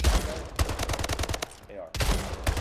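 Loud video game gunfire from Splitgate: a blast of shotgun fire followed by a quick series of sharp shots, a short lull, then more close, heavy bursts.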